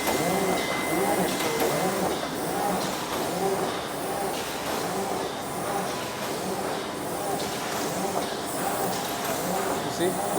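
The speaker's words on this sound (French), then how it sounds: "Donc là, on est sur de imprimante à UV pour la partie brillante." A spot UV printing machine running in a packaging factory in China, giving a dense, continuous mechanical roar with a rapid repeating rhythmic clatter and hiss, steady and close throughout.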